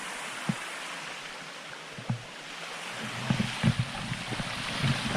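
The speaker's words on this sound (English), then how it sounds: "I think I'm going to try and cross across this waterfall." A waterfall on an Irish nature walk in dull weather, rushing as a steady broadband wash, with a few close knocks and footstep-like thumps over it.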